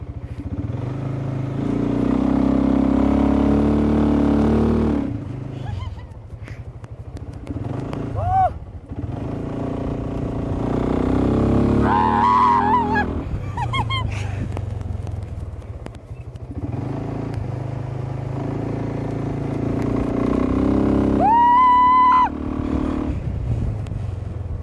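A BMW C1 scooter rides along with a steady engine drone that swells with acceleration and eases off, over a long stretch with the rider's voice coming in at intervals.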